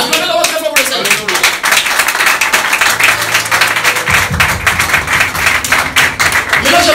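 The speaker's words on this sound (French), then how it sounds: "Acclamez la voix très fort pour le Seigneur." A church congregation claps and cheers loudly for the Lord, with rapid, sustained applause close by and sustained musical tones joining partway through.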